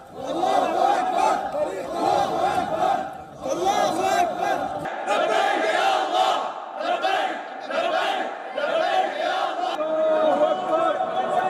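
A large crowd cheers and chants loudly at the Umayyad Mosque in Damascus after the fall of Bashar al-Assad, with massed voices, shouts and bellows surging continuously close by.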